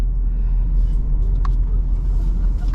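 A 2025 Ford Mustang GT S650, naturally aspirated with a 10-speed automatic, drones steadily from inside the cabin while driving, a constant low engine rumble with road noise at even loudness and no talk.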